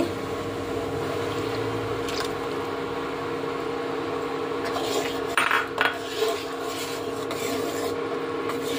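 A utensil scrapes and stirs in a pot as powdered milk is mixed in, making a close, steady rasping rub over a constant kitchen hum, with a few sharper clinks near the end.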